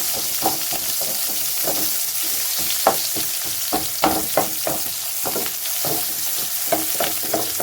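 Garlic and onion fry in hot oil for simple veg fried rice, a constant close sizzle broken by repeated rhythmic stirring scrapes and clinks of a spoon against the pan, with no talking.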